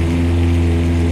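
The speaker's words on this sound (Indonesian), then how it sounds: "850 rpm aja suaranya seperti ini" A Lamborghini Aventador LP720-4 Roadster engine idles steadily at 850 rpm up close, a deep, even rumble with a constant low hum and no changes in pitch.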